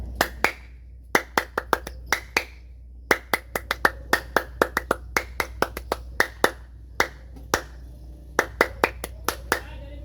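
Hand claps from a few people in a quiet room, sharp and close, coming in quick bursts and rhythmic clusters over ten seconds with brief pauses between groups, over a steady low hum.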